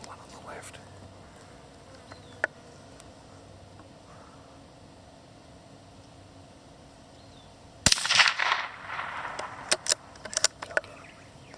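Rifle shots during rabbit hunting in Victoria, a single sharp crack breaking an otherwise quiet outdoor stretch, followed by a few fainter snaps and rustling.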